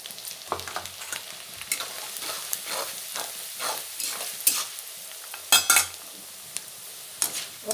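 Flattened rice (chura) frying in hot oil while being stirred for a fish head curry, close, irregular scraping strokes and clinks of the spoon against the pan over a soft sizzle, with no talking.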